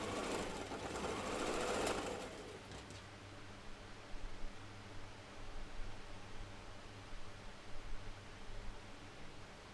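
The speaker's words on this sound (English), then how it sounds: "I'm just going to chain pieces together real quick." A sewing machine chain-pieces fabric with a quarter-inch seam, starting with a loud steady whirring burst of stitching for about two seconds, then a quieter rumble with soft fabric rustles and handling.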